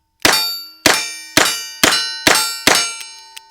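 A snub-nose pistol fires six evenly spaced sharp shots, each a loud close crack with a ringing metallic tail, followed by a couple of faint clicks.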